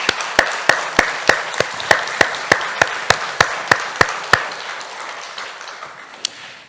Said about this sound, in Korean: 감사의 박수 다시 한번 드리겠습니다